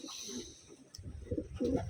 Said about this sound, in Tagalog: Bale ito yung ibon.